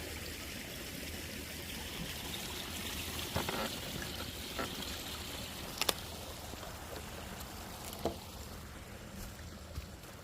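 Quiet, steady rush of a stream swollen by recent rain flowing fast, with a few soft splashes and knocks standing out briefly.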